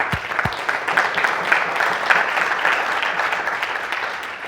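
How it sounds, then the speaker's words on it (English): An audience at a conference keynote breaks into sustained applause, a broad, steady wash of many hands clapping, loud and continuous. A couple of low thumps come near the start. "So I'm just going to keep clapping because it's an amazing feat for the Italian community."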